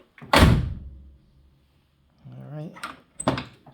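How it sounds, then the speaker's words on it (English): A C3 Corvette convertible door is shut against a newly installed weatherstrip, giving one loud, close thunk followed by a second softer closing thump, with brief talk between them. "So this is going to be the official door close"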